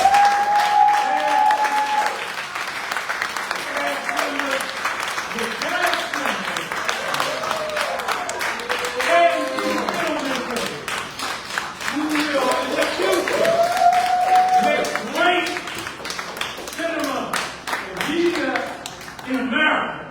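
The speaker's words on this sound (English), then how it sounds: "We want to ask you to give a round of applause." Audience at a film screening and community discussion at The Festival Center in Northwest DC gives a sustained round of applause, dense clapping lasting about twenty seconds, with voices and cheers mixed in over it.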